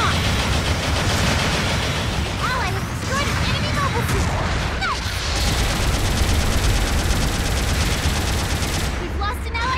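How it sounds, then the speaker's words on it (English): Continuous barrage of long-range support fire in the mecha game Gundam Battle Operation 2, dense rolling gunfire and booms with whistling projectiles, loud and sustained throughout, with a voice speaking over it. "Long-range support fire incoming!"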